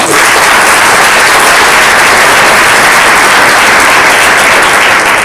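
A large audience at an alumni gathering bursts into loud, dense applause, a continuous roar of clapping that stays steady at full volume for the whole stretch.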